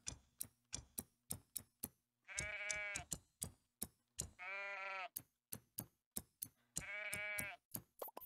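Sheep in the farming video game Everdream Valley bleat three times in long wavering cries, spaced between rapid sharp ticking clicks, close and clear with no talking over them.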